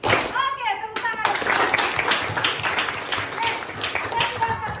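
Children in a classroom break into clapping, a dense burst of hand claps under a teacher's voice and chatter, lasting a few seconds alongside ongoing classroom talk.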